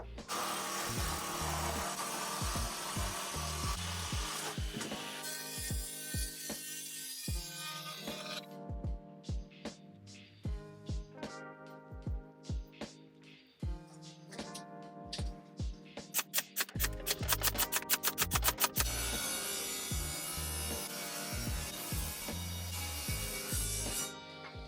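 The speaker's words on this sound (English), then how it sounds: "The pieces that I'm cutting now, they're meant to be shelf supports" Power tool cutting wooden pieces for cupboard shelf supports, a series of bursts of whirring saw noise with short pauses, loud and close, then a rapid rattling stretch near the end.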